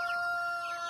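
A mother hen with her month-old chick gives a brief, close, sustained cluck-like call, alone and steady for under a second.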